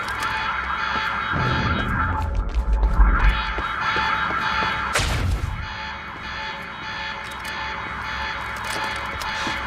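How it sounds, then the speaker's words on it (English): An alarm blares inside a facility in the video game Quantum Break, a sustained electronic tone running through the whole stretch with heavy game ambience and a brief loud burst partway through. "The alarm must have locked everything down."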